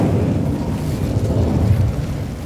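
A fire spell cast in the Hogwarts Legacy video game gives a sustained, roaring burst of flame with a heavy low rumble that holds steady for a couple of seconds.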